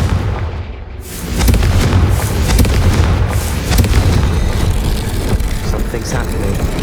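A fiery Confringo spell blast in the video game Hogwarts Legacy, a loud sustained booming roar that swells after a brief quieter start and stays dense and heavy throughout, with a voice present.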